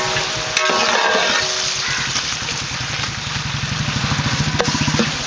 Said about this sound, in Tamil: நல்ல வெங்காயம் வதங்கி வருது பாருங்க.